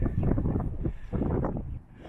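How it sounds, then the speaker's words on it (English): Low, rumbling gusts of desert wind on the Amargosa Trail buffet the microphone in uneven surges, swelling and easing over a couple of seconds. "the wind is really whipping up now"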